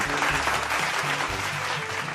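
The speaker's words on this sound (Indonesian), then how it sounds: "Boleh tepuk tangan dulu." An audience claps steadily throughout, a dense and even wash of applause.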